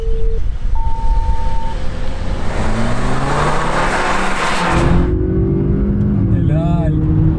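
BMW 320i F30 and Mercedes-Benz C180 W205 in a drag race, a car engine rising loudly in pitch through gears as it accelerates, then a gear change and further revving, with a short tone near the start.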